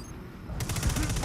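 Flak cannon gunfire in the video game Destiny 2, a rapid steady burst of loud repeated shots starting abruptly after a brief low rumble.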